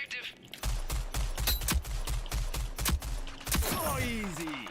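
Rapid gunfire bursts from the online shooter Rogue Company, a dense string of close shots with one player talking over them during a bomb objective match.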